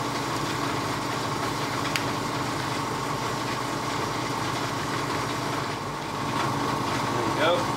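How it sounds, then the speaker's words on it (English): An air compressor runs steadily at close range as a continuous motor drone with a droning hum, nearly unchanged throughout and slightly louder near the end. "Sorry about the compressor."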